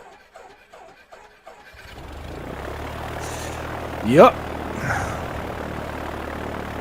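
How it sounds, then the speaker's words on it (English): A light aircraft engine starts and settles into a steady, loud running drone with low rumbling harmonics, with a man's brief speech over it. "Engine's running now."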